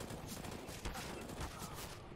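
Faint bursts of Counter-Strike: Global Offensive gunfire crackle in rapid succession, distant and muffled, with no one speaking, during a DreamHack match.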